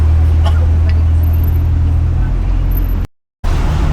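A sports car rolls back in from a test drive, its steady low engine rumble and road noise loud and close throughout, with a short complete dropout near the end before the sound resumes.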